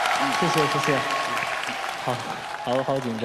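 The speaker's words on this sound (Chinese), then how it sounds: "你唱得很棒，再给他掌声好不好？" An audience applauds a singer, a steady wash of clapping running under a young man's nervous thanks and talk for the whole stretch.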